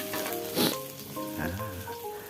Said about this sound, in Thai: ผัดให้หอมเลยนะฮะ